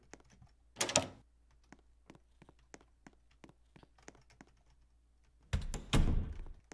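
Door sounds in a roguelike video game: two loud, creaky bursts, one near the start and a longer one near the end, separated by soft, sparse tapping clicks.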